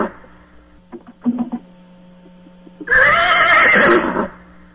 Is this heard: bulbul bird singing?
no